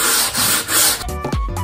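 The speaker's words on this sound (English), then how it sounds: "I sanded down the sides by hand." Wooden bedroom furniture being sanded by hand with coarse 80 grit sandpaper: close, loud back-and-forth rasping strokes, a few quick scrubbing passes followed by lighter scratchy rubs.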